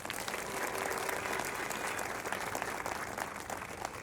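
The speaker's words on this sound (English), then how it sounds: "Now give them all a big round of applause." A concert audience applauds the band members at a municipal band's season-finale performance, with dense, steady clapping that holds loud and even for the whole stretch and a few cheers mixed in.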